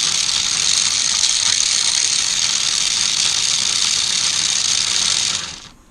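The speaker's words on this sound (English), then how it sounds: "There's no speed regulation in that motor." A 1994 Lionel RS3 model train locomotive motor, unregulated and dirty, whirs at high speed with a steady, loud, rattling mechanical buzz that holds constant before suddenly winding down at the end.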